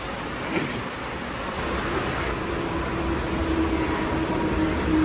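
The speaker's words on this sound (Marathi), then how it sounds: "तीन नंबरवरती ट्रे ट्रेन आले पनवेलला जाणारी सी एस टीवरून" A continuous low rumble of a CSMT–Panvel train arriving at Juinagar station platform three in Navi Mumbai, steady and fairly close, with a faint high squeal near the end.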